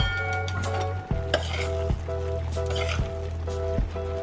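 A utensil stirs beef and broccoli florets in a pan over low heat, scraping in repeated strokes about once a second, with a soft sizzle and low hum underneath.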